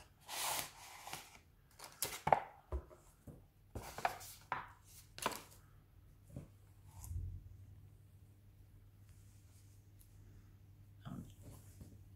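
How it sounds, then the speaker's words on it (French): Washi tape, a shiny decorative paper tape, being cut in a few quick close snips that come in short bursts, then quieter handling noises, with no one speaking. "Je suis obligée de couper le washi."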